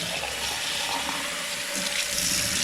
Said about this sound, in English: rinse out the sink a little bit